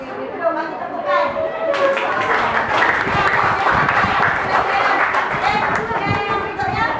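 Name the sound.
class applauding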